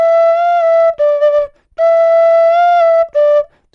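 Tin whistle played with the top hole half-covered and slid, giving two sustained clear notes with bright overtones, each followed by a short quick flourish, loud and close with no voices.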